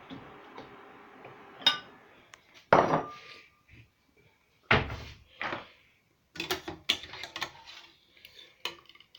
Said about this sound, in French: Bon, je vais prendre une assiette. Là, je vais mettre un bol peut-être.